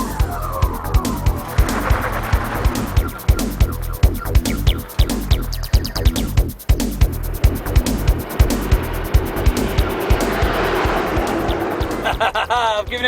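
Diesel Jackaroo racing hard on a dusty outback track in the Milparinka 1000, engine roaring loud and close with rhythmic thumps and jolts over rough ground, continuous throughout.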